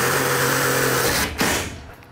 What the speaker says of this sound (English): I'm gonna use the self-tapping screws here now to put on that L bracket